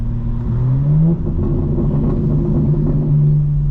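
Cabin-side rumble of a 2025 BMW M4 Competition engine under daytime driving, a loud steady drone with a rising rev partway through, heard from inside the car with no talking.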